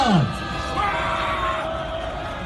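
Crowd at a doctors' rally letting out a loud shout of cheering and yelling, a sustained roar of many voices that fades slowly.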